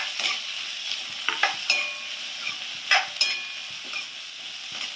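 Sliced onions sauté in a pan for fried egg masala, giving a soft steady sizzle broken by several sharp scraping stirs and light clinks, close by and without speech.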